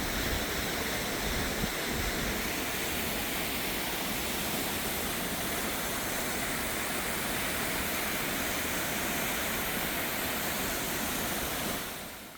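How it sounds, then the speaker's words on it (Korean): Jaein twin waterfalls in Yeoncheon pour in a dense, constant hiss of falling water heard from a distance, steady and unvarying until it fades at the very end. "이렇게 두 개의 폭포를 함께 보면 마치 신성계가 있다면 이런 곳이 아닐까 싶네요"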